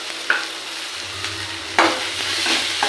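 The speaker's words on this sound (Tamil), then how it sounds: "நல்லா வதக்கிக்கலாம்." Soya chunk gravy with mint and coriander sautéing in a pan makes a loud, steady sizzle, punctuated by several scraping stirs and a low bubbling rumble beneath, close by with no talking.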